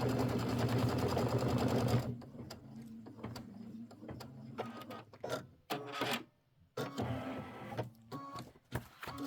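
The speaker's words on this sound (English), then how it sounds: "we're going to do the placement stitch for the tops of the popsicles" A sewing machine runs a placement stitch for the red fabric tops of popsicle blocks on a mini quilt. It makes a dense, fast mechanical whir for about two seconds, then gives shorter bursts and clicks with pauses between them.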